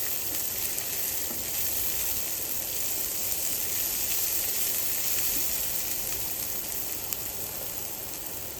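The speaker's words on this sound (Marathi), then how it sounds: "हे छान कांदा खूप असं जाळायचं नाही, पण जरा तेलाचा वास जाईपर्यंत परतायचं आहे" Chopped onion sautés in hot oil in a pan for a pomfret curry, giving a steady, close, unbroken sizzle and hiss with no talking.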